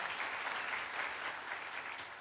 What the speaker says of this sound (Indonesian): kita kasih tepuk tangan buat mereka